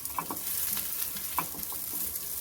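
Cheese balls being turned over and pan-roasted on low heat, giving a steady soft sizzle with a few light scraping and tapping knocks as they are flipped, close by, with no talking.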